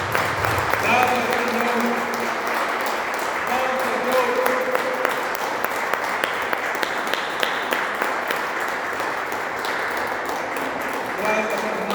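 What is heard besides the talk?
church congregation applause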